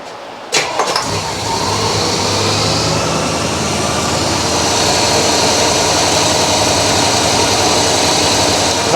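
A 1965 Chevrolet El Camino engine starts with a brief cough and settles into a loud, steady idle close by, running unbroken for several seconds with no talk.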